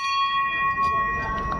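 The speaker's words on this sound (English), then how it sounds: "hit the bell" A Hindu temple bell rings with a sustained, clear metallic tone that keeps sounding steadily throughout, close and fairly loud.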